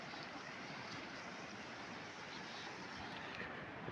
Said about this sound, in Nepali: हापुर खोलाको भल